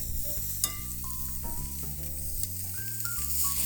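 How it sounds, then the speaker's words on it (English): Food caramelizing over a flame in a pan at a holiday cooking class gives a steady, close frying sizzle that runs through the whole stretch, with musical tones over it. "You want to hear that nice sizzling noise"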